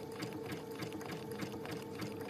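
A sewing machine runs steadily, stitching a dense satin stitch for machine reverse appliqué, a close continuous whir with a fast regular needle chatter and no talking.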